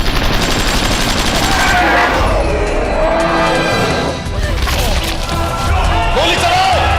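Rapid bursts of gunfire crackle through a loud, chaotic action-movie scene, with shouting voices and vehicle noise mixed in throughout.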